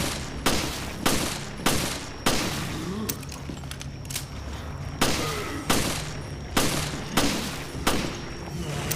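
Gunfire in the video game Resident Evil Revelations, with loud, evenly spaced bursts of shots repeating with short gaps between them and a faint background hum.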